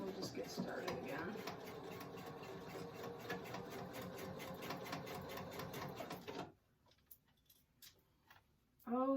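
A home sewing machine runs in a fast, even stitching rhythm while a cover for a composition book is sewn, then cuts off abruptly into near silence before a brief louder noise at the end.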